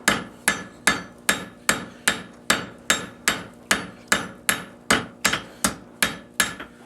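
Steady hammer blows on hot metal at an anvil ring out about twice a second, each a sharp bright clang with a short ringing decay, close and loud with no talking.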